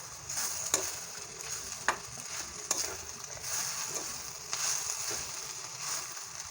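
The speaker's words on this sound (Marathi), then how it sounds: "त्याचबरोबर सॉफ लवंग आणि मिरी व्यवस्थित भाजून घेऊया" Fennel, cloves and black pepper dry-roasting in a pan over a medium flame for egg curry masala, a soft steady sizzle with a few distinct stirring scrapes and no voices.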